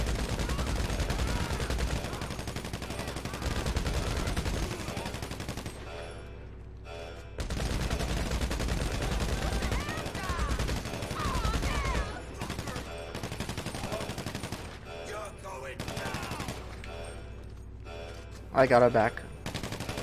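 Suppressing gunfire in a shooter game, long stretches of dense automatic fire broken by brief pauses, loud and near, with a player's voice talking briefly over it.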